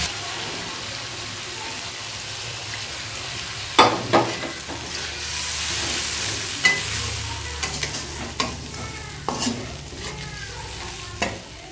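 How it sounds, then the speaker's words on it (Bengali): Ground spice paste with whole cinnamon and cardamom frying in a pan for a fish curry makes a continuous sizzle, with several loud spoon scrapes and knocks as it is stirred. "চলো মশলাটা ভালো করে কষে নিই, তারপর জল দেবো।"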